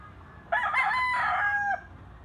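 A black-leg bullstag rooster crows once, close and loud, a single drawn-out call with a rising start and a sustained, wavering end, alone over a quiet background.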